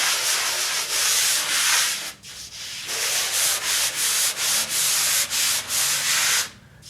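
Sanding down a ridge along the edge of a drywall patch, steady close scraping strokes with short pauses between passes, then a final stop.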